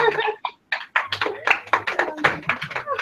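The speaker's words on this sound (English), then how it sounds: "Clap it up for Amanda." An audience claps for Amanda at a women's empowerment gathering, a series of sharp, uneven hand claps rising in the second half beneath a speaker's continuous voice.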